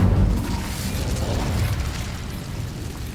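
The Incendio fire spell being cast in the Hogwarts Legacy video game: a rumbling burst that settles into a sustained low roar of flame lasting a few seconds.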